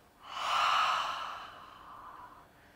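A single audible yoga exhale through the mouth with a breathy "ha", swelling quickly and then trailing off softly, close and quiet against near silence.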